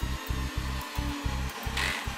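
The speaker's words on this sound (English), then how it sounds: "Drill the holes and place the fixings into the holes." Power drill boring fixing holes into a wall for mounting an inverter bracket, a close loud grinding whir pulsing in short repeated bursts with brief gaps between them.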